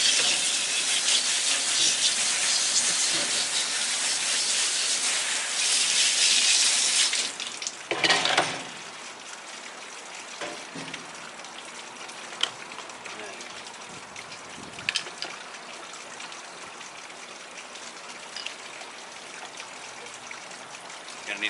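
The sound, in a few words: rinsing an aquarium filter motor under running water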